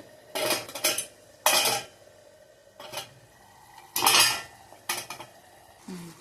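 A lid is lifted off a pan of mustard coconut prawns, giving several close metallic clanks and scrapes of lid and utensil in separate bursts, with quiet gaps between them and no voices.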